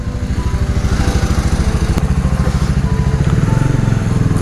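Bajaj Dominar 400 motorcycle being ridden near Kochi, its engine a loud, steady, throbbing drone close by throughout.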